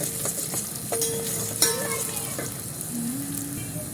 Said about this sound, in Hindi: प्याज को हम गोल्डन ब्राउन करेंगे।